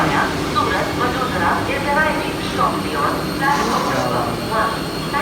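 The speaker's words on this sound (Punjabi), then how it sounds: "ਭਾਰਤ ਦੀ ਪਹਿਲੀ ਸਭ ਤੋਂ ਤੇਜ਼ ਚੱਲਣ ਵਾਲੀ ਰੇਲ ਗੱਡੀ ਹੈ" A Vande Bharat Express high-speed train roars steadily and loudly close by in Mumbai, its rumble and rushing noise continuous while a person talks over it.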